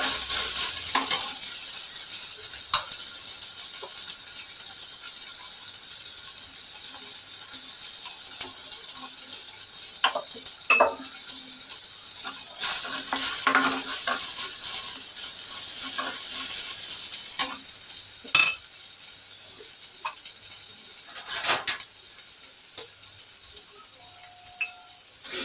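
Sun-dried brinjal and green chili fritters fry in a pan while a utensil stirs them. A steady soft sizzle runs throughout, broken by scattered scraping clicks and a few louder clinks, with no talking.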